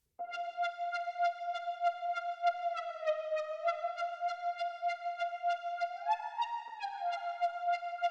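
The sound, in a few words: saw wave lead synth with glide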